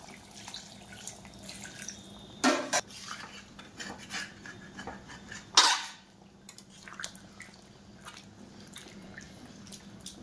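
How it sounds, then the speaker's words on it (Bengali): Spiced meat stock splashes into a pan of chicken curry in two short bursts of pouring and sloshing, with light clinks of a utensil against the pan in between and quiet kitchen background. "এবার আমি মাংসের জল দিয়ে দেবো। এই মশলা দেওয়া জলটা দিয়ে দেবো।"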